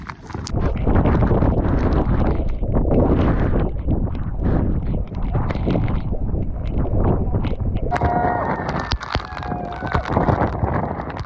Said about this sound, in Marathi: एवढा वारा सुटला पुरा बॉडी ढकलते पुढे